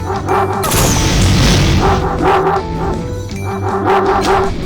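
Several dogs bark and yip repeatedly in a mobile ad-style video game, mixed with booming game effects and music-like tones.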